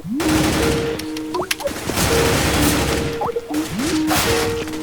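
Rapid bursts of rifle fire from a Counter-Strike match crackle loudly and repeatedly throughout, overlapping with in-game sound effects and no talking.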